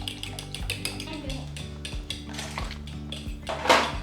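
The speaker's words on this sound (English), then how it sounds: "whisk all of those together." Eggs and salt whisked in a bowl, a quick run of rhythmic metallic clinks and taps against the side, close and fairly loud, ending in a brighter scrape.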